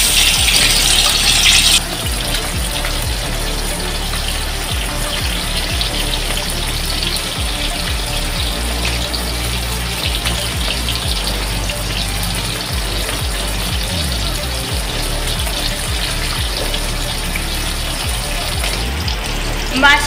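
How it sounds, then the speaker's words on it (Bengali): Marinated foli fish fry in hot white oil in a pan, giving a steady, loud, hissing sizzle that runs throughout, close by, with no talk. "তেলটা গরম হয়ে গেছে, মেখে রাখা ফলি মাছগুলো দিয়ে দিচ্ছি।"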